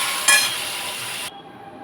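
Potatoes tossed with salt and turmeric fry in hot oil with a bright, steady hiss and a brief louder spike of sizzle, then the sound cuts to a much quieter background after about a second.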